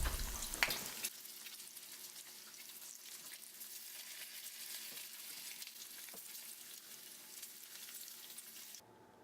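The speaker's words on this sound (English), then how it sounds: "Now let's begin by cooking up some bacon just like you normally would." Bacon fries in a pan with a steady, bright, hissing sizzle that holds close and even throughout, briefly louder at the start, then cutting off abruptly near the end.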